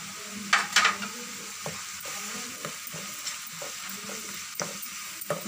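Masala paste stirred and fried in a pan, a low continuous sizzle broken by repeated scraping strokes and soft clicks of the spoon, close and fairly quiet, with no talk.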